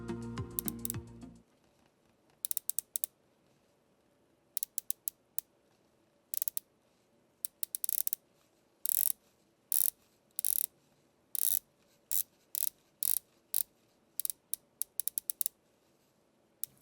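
Ceramic bezel of a gold Vulcain Nautique dive watch turned by hand, giving a series of crisp, small ratchet clicks in irregular bursts, close and quiet, with no talking.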